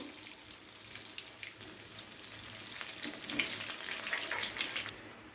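Paneer cubes fry in hot oil, giving a soft, steady sizzle with small crackles and pops, fairly faint and close throughout, with no talking.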